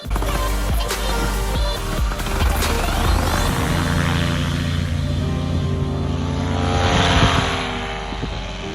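A paramotor's propeller engine flying over Iceland toward the ocean at sunset, a loud continuous buzzing drone with rushing wind, swelling near the end and then easing slightly.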